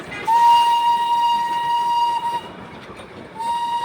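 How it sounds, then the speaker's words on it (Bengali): The Darjeeling toy train at Batasia Loop sounds a long, steady whistle, pauses, then whistles again, rising over a low rumble of rolling wheels close by. "টয় ট্রেন যাচ্ছে"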